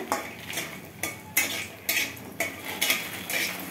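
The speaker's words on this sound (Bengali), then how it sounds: "এখানে আমি কটা কলাই ডালের বড়ি ভেজে নেব।" A spoon or spatula knocks and scrapes in a pan at a steady rhythm, about once every half second, while kalai dal lentil dumplings fry in oil under a faint sizzle.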